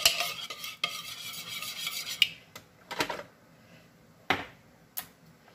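Cubed steak and potatoes being mixed into a salsa in a pot, close wet scraping and stirring strokes with a few sharp utensil knocks against the pot, no talking.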